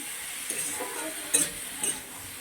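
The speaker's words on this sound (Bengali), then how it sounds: "এইভাবে আমি আরও কিছুক্ষণ কষিয়ে নেব" Prawn curry with spices is sautéed and stirred in a pan, a soft low sizzle broken by a couple of scraping, clinking strokes of the spoon against the pot, close and quiet with no talking.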